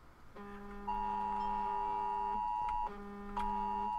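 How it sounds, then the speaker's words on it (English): A phone sounds a severe-weather alert for a flash flood warning, giving off loud, steady, sustained electronic tones that break off briefly and then start again, with no talk over them. "there's a severe alert that just happened on my phone"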